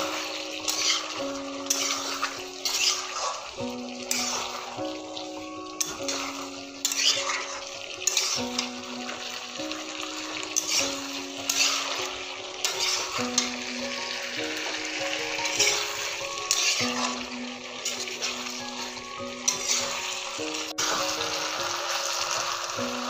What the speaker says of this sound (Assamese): গোটেইখিনি ভালদৰে মিহলাই আকৌ ভাজিব লাগিব।